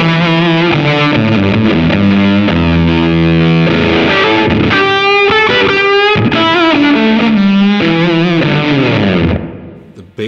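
An electric guitar plays through a Decibelics Reverend XX distortion pedal on its most extreme setting, giving loud, thick, saturated chords and riffs that ring out continuously before a brief decay at the end.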